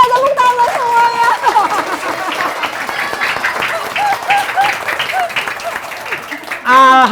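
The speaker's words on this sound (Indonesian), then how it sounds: "Tepuk tangan semuanya." Audience applause at a SpeedTalk inspirational talk show, a steady wash of clapping across the whole stretch with a presenter's voice heard over it at the start and end.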